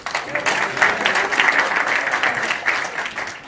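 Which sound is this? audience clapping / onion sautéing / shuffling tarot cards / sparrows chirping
audience clapping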